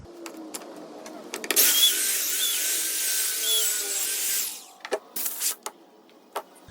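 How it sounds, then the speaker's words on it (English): An orbital sander runs on a wooden kitchen tool for about three seconds, making a steady, close whirring drone. Scattered clicks and knocks of handling come before and after. "So now I use my orbital sander on this to remove any cross grain scratches left by the belt sander"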